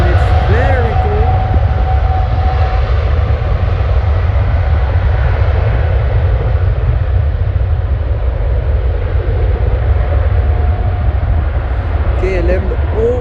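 An airliner takes off at Schiphol airport with a loud, sustained jet roar that fills the scene at close range and holds steady throughout.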